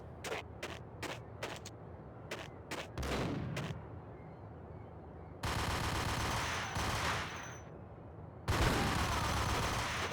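Gunfire in the video game Max Payne: quick bursts of loud shots, then longer dense stretches of rapid fire with brief pauses, close and harsh.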